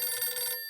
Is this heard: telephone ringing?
yes